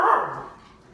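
A dog barks once up close, a single loud yelp that trails off quickly with no one speaking.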